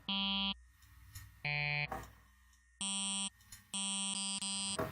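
Bright, buzzy synth tones from Serum, starting from a triangle wave, sound in short bursts of about half a second, separated by brief gaps of noisy sweeps, with the tone brightening as harmonics are added.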